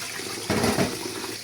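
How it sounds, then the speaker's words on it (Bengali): Tap water runs over spinach leaves being rinsed in a sink, a soft steady splashing flow with a brief louder surge partway through. "এই লাস্টবারের মতো ধুয়ে নিচ্ছি, ভালোই ময়লা ছিল।"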